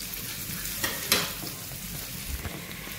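Onions sizzle in a little oil, a soft steady frying hiss with a couple of stirring scrapes, close but fairly quiet and with no one talking.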